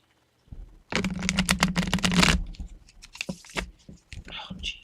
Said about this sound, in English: Gotta shuffle these a few more times.